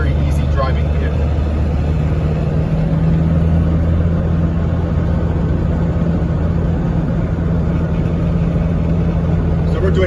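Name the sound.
1990 Range Rover Classic engine driving at 50 mph in fourth gear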